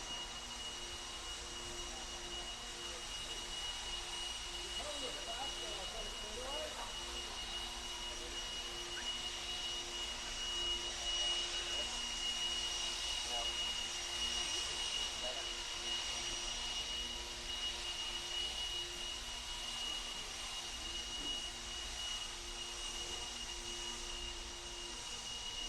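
Leaf blowers run by marshals clear a freshly repaved oval race track, a continuous loud engine whine and rushing air holding steady for the whole stretch, swelling slightly midway as the blowers pass closer.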